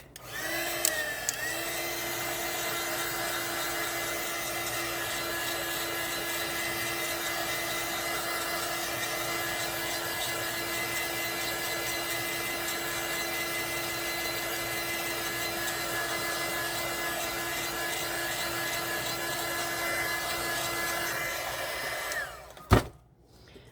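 A dryer blows onto a polyurethane resin mold in a steady, loud, whining rush that runs for about twenty seconds, then ends with a sharp thump as it cuts off.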